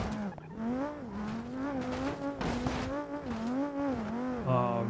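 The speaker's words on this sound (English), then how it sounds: "making a sharp turn and skidding sideways" A car in BeamNG.drive skids sideways through a sharp turn, a sustained wavering tire squeal riding over a droning engine, loud and close for several seconds.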